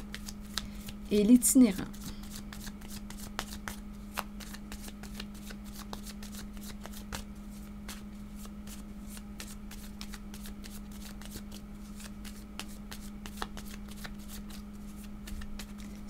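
Tarot cards are shuffled close by with a steady run of soft riffling clicks over a constant low hum, and a voice speaks briefly near the start.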